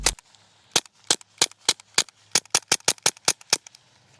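Eleven sharp pistol shots from a Taurus handgun firing Federal Subsonic rounds, after one shot at the very start, crack out in an uneven string, loud and close, with short quiet gaps between them.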